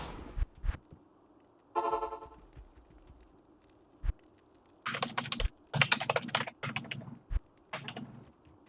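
Bursts of rapid computer keyboard typing clack out during a Diablo II Lord of Destruction session, with clustered keystrokes over a low background hum and no talk.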